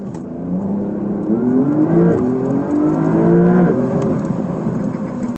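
A Porsche 911 GTS 4 with a lightweight package revs loudly and steadily, its engine note climbing and falling in pitch, raw and close, before cutting off abruptly at the end.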